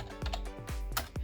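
Fingers type a short number string on a computer keyboard: about five crisp, close keystrokes in quick, slightly uneven succession, with no talking.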